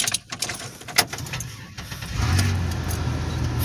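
A 2003 Monte Carlo SS starts up close by: a few clicks and jangling keys, then the engine catches and settles into a steady, rumbling idle.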